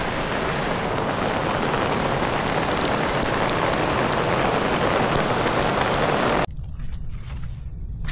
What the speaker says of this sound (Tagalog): bumuhos ang ulan.